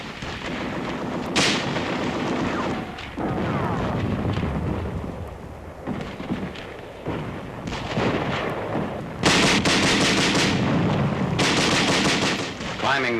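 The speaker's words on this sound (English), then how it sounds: "Tanks and Bren guns giving supporting fire." WWII tanks and Bren guns lay down supporting fire during a British canal crossing near Boxtel, with bursts of machine-gun fire and heavy booming reports. The firing is loud and continuous across the whole stretch, with sharp peaks near the end.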